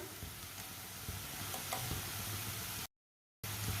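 Crushed garlic and ginger sizzle steadily in hot oil with lightly browned onion in a pan, a soft continuous hiss with faint ticks, broken by a brief silent gap.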